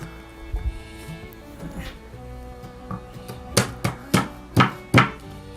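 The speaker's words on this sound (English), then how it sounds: "Finely chopped garlic and ginger." A knife finely chopping garlic and ginger on a board for Hainanese chicken rice, with a few scattered soft taps followed by five loud, evenly spaced chops near the end, close up.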